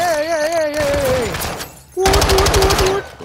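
Bursts of automatic gunfire in Call of Duty Modern Warfare rattle loud and close, with a dense rapid volley at the end, mixed with game voices and a musical tone.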